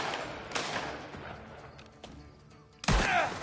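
Gunfire in the video game Mafia: The Old Country, with a few sharp shots spaced across the stretch and a heavier, louder blast near the end, firing alone without talk.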